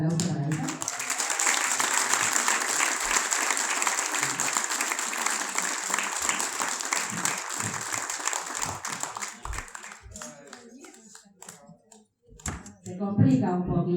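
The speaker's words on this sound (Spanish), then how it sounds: "Fuerte el aplauso para ella." Loud applause from an audience at a recognition ceremony honoring María Isabel Coronel, strong at first then thinning into scattered claps, with voices and room noise rising near the end.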